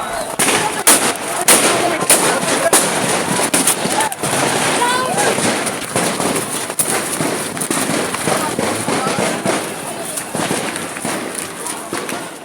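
Sharp gunshots crack in rapid, irregular bursts near armored military vehicles in a street clash, loud and close, with people shouting and running amid the firing.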